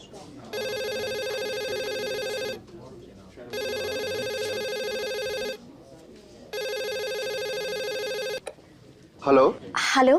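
An outgoing phone call ringing back in three long, evenly spaced electronic rings with short pauses between, followed by a voice picking up near the end.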